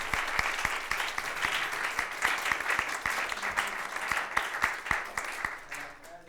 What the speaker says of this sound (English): And let us give them a very warm applause to all our teams.